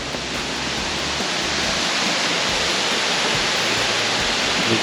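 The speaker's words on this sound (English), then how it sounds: "You can hear it. The water that's going through is amazing." Water rushing through a cave along a forest hiking trail, a steady loud broadband roar like a waterfall, continuous and close for the whole stretch with no talk over it.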